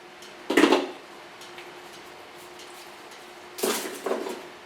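Hair colour is stirred into a bowl, with two short bursts of scraping and clattering against the bowl separated by a long quiet stretch, close by and with no speech.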